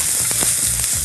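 Chopped garlic fries in a pan for a wok dish, giving a loud, close, continuous sizzle with faint knocks inside it.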